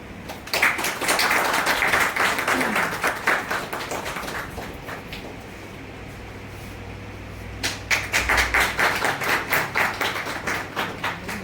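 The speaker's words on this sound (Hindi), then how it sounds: "जोरदार ताली होना चाहिए।" Two bursts of hearty clapping from an audience at a Hindi fortnight closing ceremony, loud and close, separated by a quieter lull with a low steady hum underneath.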